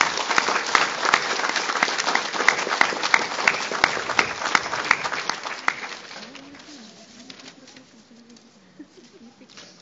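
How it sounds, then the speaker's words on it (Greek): Lively audience applause fills a hall after a speech, with dense clapping that gradually thins out and fades into scattered claps and quiet room noise. "Αυτούς πρέπει να χειροκροτήσετε."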